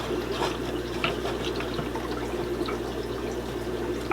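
Water trickles and gurgles through a Penn Plax bubbler aquarium filter, a steady, moderately quiet flow with faint bubbling and no talking.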